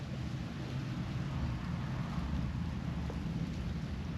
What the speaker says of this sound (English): if you look outside right now, it is pouring.